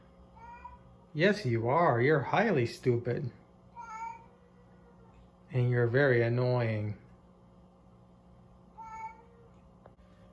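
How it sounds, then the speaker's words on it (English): Patty, a pet cat, gives loud, drawn-out meows close by, a long run of calls and then another burst, while a person speaks to her between them. "The noises you are hearing are of my dumb cat, Patty."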